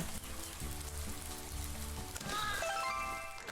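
Rain pours in the video game Rain on Your Parade, a steady hiss of falling water joined partway through by bright game chimes and musical tones.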